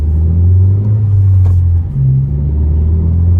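A 10th-generation Honda Civic with a TSP Stage 1 tune shifting gears from inside the cabin, a loud steady low engine drone that dips briefly and resumes at a new pitch, no talking.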